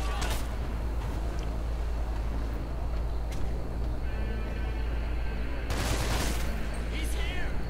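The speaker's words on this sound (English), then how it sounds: "Oh, I'm getting shot at." Dense, continuous gunfire from the video game Hatred, loud rapid bursts and volleys layered over each other throughout, with sharper blasts near the end.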